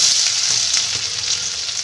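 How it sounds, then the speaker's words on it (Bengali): Chopped onion hits hot mustard oil in a wok, crackling and sizzling loudly and continuously up close, with no voices. "কড়াইতে সর্ষের তেল গরম করে নিয়েছি এবার আমি প্রথমে পেঁয়াজ কুচিটা দিয়ে দেবো"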